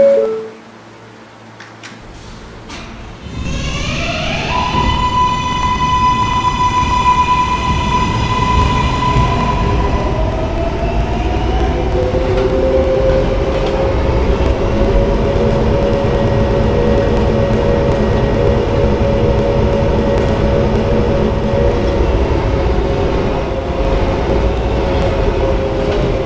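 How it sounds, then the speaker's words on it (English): A K subway train on the Potato City Subway accelerates away from a station, its motor whine rising in pitch over a loud, steady rumble and rattle of wheels on track that continues for the whole run between stops. "This is a Potato Work bound K train."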